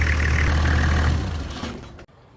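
A Toyota Landcruiser 105 Series engine running with a steady, loud rumble, recently fitted with a replacement viscous fan, before it cuts off abruptly near the end.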